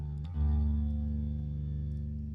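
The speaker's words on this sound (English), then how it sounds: "So I'm going to add a stereo chorus in there." Electric guitar with a stereo chorus effect from Positive Grid BIAS X, a single sustained chord ringing after a soft attack, shimmering steadily without talk.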